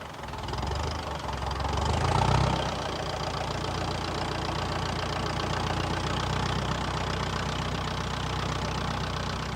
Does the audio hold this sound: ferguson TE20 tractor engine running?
yes